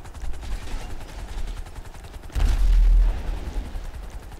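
Gunfire in the online video game GTA V Online: a burst of loud, booming shots around the middle, set against a steady background of game noise.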